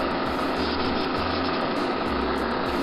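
Airbrush spraying paint onto an HO scale model railway wagon, a steady close hiss of compressed air running continuously with a faint low motor hum beneath.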